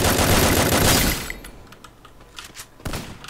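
Gunfire in the shooter game Garena Free Fire: a loud, rapid burst of automatic fire that cuts off, followed by a few scattered single shots and clicks at lower volume.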